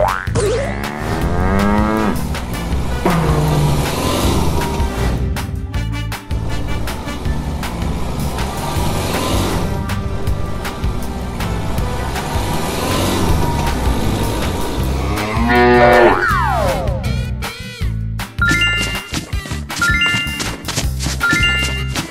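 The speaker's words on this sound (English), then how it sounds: "Cow." Repeated cow moos, loud and close, sound among cartoonish sliding whistles, boings and engine noises that change throughout, with no talking.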